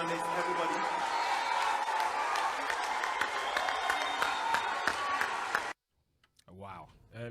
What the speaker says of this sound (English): Look at the applause that greeted that announcement